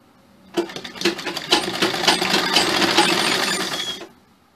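Sewing machine stitching a blouse, one continuous close run of about three and a half seconds with a rapid rhythmic clatter that starts and stops cleanly.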